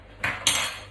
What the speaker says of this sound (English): So the rice is going to go in, and I'm going to stir it, and I'm going to stir it now.